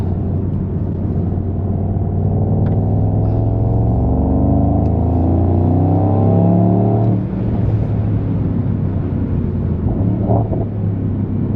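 A 2025 Mercedes-AMG GT 63 Coupe accelerating, a heavy low engine rumble climbing steadily in pitch from inside the cabin, easing briefly before building again, with wind and road noise throughout and no talking.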